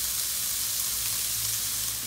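Pork in a frying pan sizzles loudly and evenly after a splash of water, a dense steady hiss that goes on without pause.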